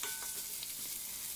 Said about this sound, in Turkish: çevirip kavuruyorum